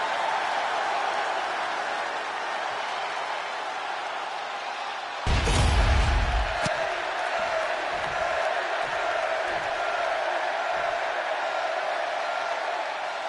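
A capacity crowd roars steadily inside a WWE 2K25 wrestling arena before an Eddie Guerrero match, a continuous wash of cheering with a sharp, heavier burst partway through.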